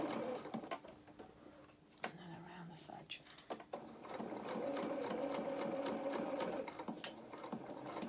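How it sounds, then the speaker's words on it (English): A sewing machine stitches fabric for a doll's opera coat, its motor whirring in starts and stops before settling into a steady, close run of rapid needle thumps, with quiet speech at moments. "I'm going to carry on sewing down here."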